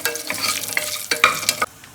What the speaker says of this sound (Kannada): ಈಗ ತುಪ್ಪ ಕಾದಿದೆ, ಸೊ ಹಾಕ್ಕೊಳ್ತಾ ಇದ್ದೀನಿ